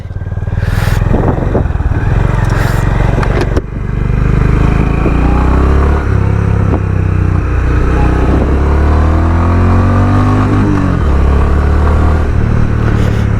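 A Honda H'ness CB 350 motorcycle being ridden, its engine droning loud and close throughout with rising and falling pitch as it accelerates and shifts, under steady wind rush.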